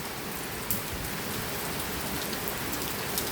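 Steady evening rain falls on surfaces around a Thai temple ground with monks' huts and a pavilion, a dense even hiss with scattered near drops and no voices.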